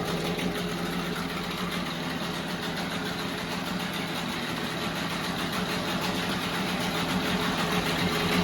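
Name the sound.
Seawalker outboard motor idling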